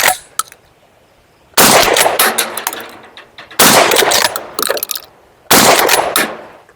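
Three loud, close blasts from a Silver Eagle XP-15 shotgun with no choke firing buckshot, evenly spaced about two seconds apart, each with a long ringing tail and some metallic clatter between shots.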